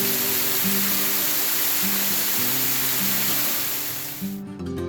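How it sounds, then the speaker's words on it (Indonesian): The Bidadari three-tiered waterfall in Panggungrejo, Blitar, East Java, roars as a steady, dense rush of falling water, with a low tonal hum pulsing underneath before it cuts off abruptly. "Indah sekali air terjun Bidadari di Kecamatan Panggungrejo, Kabupaten Blitar"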